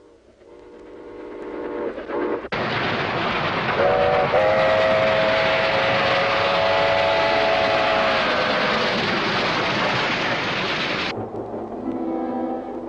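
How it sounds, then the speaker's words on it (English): A passenger train rumbles loudly past, its whistle sounding a long sustained tone in the middle of the roar before the noise cuts away, with no voices. "we were on the train heading back to Arkansas"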